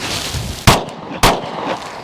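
Sharp pistol gunshot fired while testing a SIG red dot sight at about 20 feet, a single loud crack standing alone, with a second shot following about half a second later.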